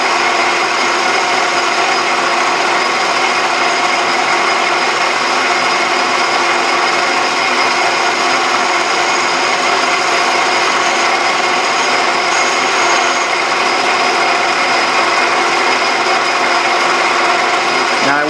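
A metal lathe cutting tool plunges in to clean up a shoulder, producing a loud, continuous scraping hiss that holds steady throughout with no pauses.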